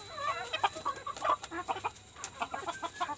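A laying duck (entok, Muscovy-type) gives a rapid series of short, close clucking calls in quick irregular bursts while passing an egg, with no talk over them.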